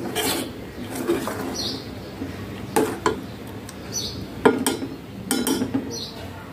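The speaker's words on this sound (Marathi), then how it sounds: "आता आपल्याला हे व्यवस्थित मिक्स करून घ्यायचं आहे." Fruit being mixed in a bowl with a spoon, giving intermittent clinks and scrapes in irregular bursts, close and moderately loud.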